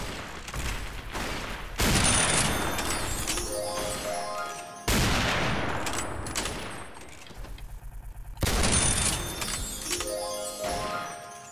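Heavy gunfire with incendiary rounds erupts in three loud bursts in a heavily modded Fallout game, each blast followed by crackling, ringing decay and metallic clinking, with no talking.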